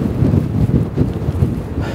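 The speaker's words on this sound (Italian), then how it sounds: "Non so se ci sentite perché c'è un vento pazzesco." Strong wind on Madeira buffets the microphone in continuous low rumbling gusts, with no talking.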